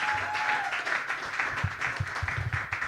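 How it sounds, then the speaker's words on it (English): Moderate applause from a gathered crowd at a football touchdown club coaches show in a restaurant, a few seconds of scattered clapping with low murmuring and room noise beneath. "Guys, give a round of applause for our senior and our quarterback,"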